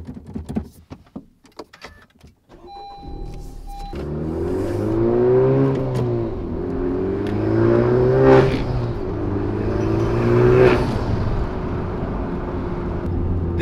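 A Honda Type R revs during a test of a Hybrid Racing short shifter, starting with a few clicks and clunks before the engine rises and falls in three loud, close revving swells.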